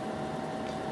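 Desktop computer case with big fans whirring, a steady, continuous broadband hum with a faint tonal drone, close and unchanging throughout.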